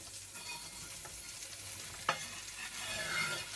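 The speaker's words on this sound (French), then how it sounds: "de l'huile d'olive et je peux commencer à mettre l'aubergine" Aubergine fries in olive oil in a pan for a ratatouille, giving a steady, moderately close sizzle with stirring scrapes and one sharp clack partway through.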